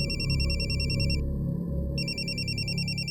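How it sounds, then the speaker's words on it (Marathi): A mobile phone ringtone sounds as a cab driver calls, a bright repeating electronic melody that pauses briefly and resumes over a low background rumble. "कॅब वाल्याचा फोन येतो."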